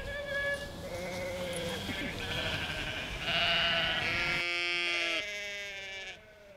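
A flock of sheep on a peri-urban plain bleats repeatedly, several overlapping calls rising and falling close by, with a voice talking beneath them.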